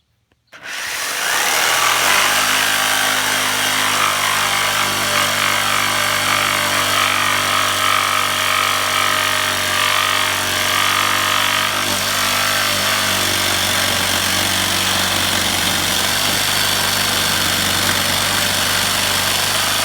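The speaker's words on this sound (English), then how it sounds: "take my trusty old jigsaw, and we're going to cut these straight bits right here" An old jigsaw cutting straight pieces of wood for a pergola, starting after a brief moment and then running loud and continuous at close range with a steady buzzing drone throughout.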